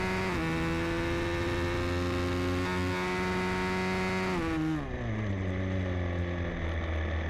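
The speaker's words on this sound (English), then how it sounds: "You can hear the engine just" A supermoto motorcycle engine screams steadily at high revs during a race at Carole, France, holding a sustained whine before the pitch drops as it shifts down, loud and continuous.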